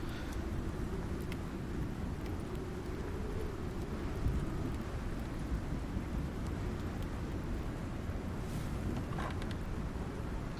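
A heavy thunderstorm rages in the survival game Icarus: continuous pounding rain with a deep rolling rumble of thunder underneath, steady and close throughout with no talking.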